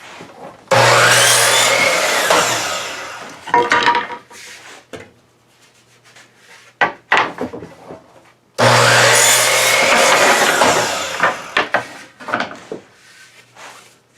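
Wood being cut for a frame, in two loud stretches of rapid, rasping sawing strokes, with scattered knocks and handling clunks between them.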